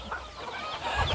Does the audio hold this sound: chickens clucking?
yes